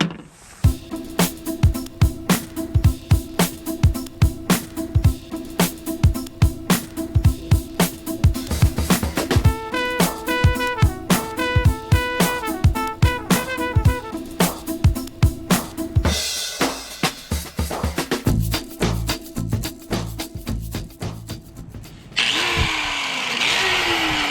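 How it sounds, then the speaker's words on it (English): A loud electric grinder whines and rattles continuously up close, grinding off a metal piece on a lawn tractor, its pitch and pulsing rhythm shifting; near the end it changes to a harsher grinding hiss. "I'm gonna grind this piece off"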